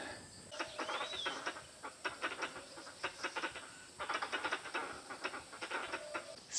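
Birds calling in a Thai forest at dusk: rapid rhythmic clicking and chattering calls in bursts, with an occasional high whistled note, fairly faint against a quiet background.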